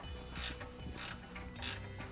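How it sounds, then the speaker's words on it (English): A ratchet tightens bolts on a hitch-mounted mud flap frame, with three bursts of rhythmic clicking strokes over a steady background hum, close and fairly quiet with no talking. "To tighten the bolts equally, first start with the two bolts at the top of the frame"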